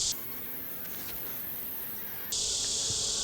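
Honeybees crowd a beehive lid during a hive inspection, a continuous high, steady buzzing hum that stays close and even throughout without any voices.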